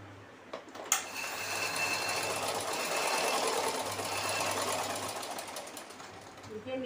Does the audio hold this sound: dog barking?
no